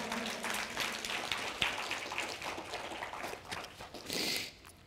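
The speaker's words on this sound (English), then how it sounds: "give them a round of applause this morning" A church congregation claps during a Sunday morning service, a modest, fairly quiet wash of applause that holds steady and swells briefly near the end.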